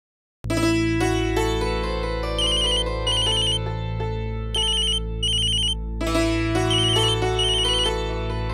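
Electronic phone ringtone for an incoming call, a loud melodic tone pattern that repeats in phrases after a sudden start, with no voices over it.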